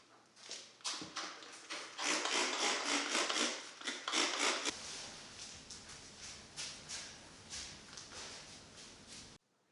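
Steady rubbing and scraping strokes wiping a car windshield clean, repeated rhythmically for several seconds, close by, with no talking.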